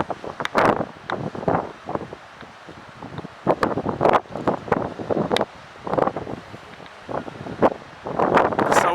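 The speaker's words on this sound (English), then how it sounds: "The sound of the sea and this sunrise, they are the perfect combo" Gusty wind buffets the microphone in irregular bursts, with a faint wash of sea waves underneath, on the seashore at Dhanushkodi, India, at sunrise.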